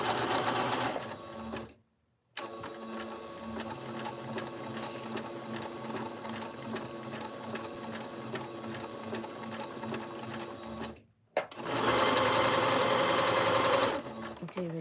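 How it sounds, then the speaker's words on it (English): A sewing machine runs a zigzag stitch on fabric, humming in a steady, rapid mechanical rhythm for long runs that stop abruptly, then restart close and loud, with light speech nearby. "Let's use our machines. Okay, I'm just using my zigzag stitch."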